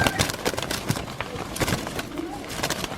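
Racing pigeons of a prized bloodline coo softly at a rooftop loft, low murmuring calls mixed with scattered clattering and background activity.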